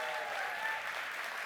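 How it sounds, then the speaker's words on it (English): Steady applause from the audience at the 74th Engineering Emmy Awards ceremony, a dense unbroken wash of many hands clapping without voices. "let's have a big round of applause for our ASL interpreter"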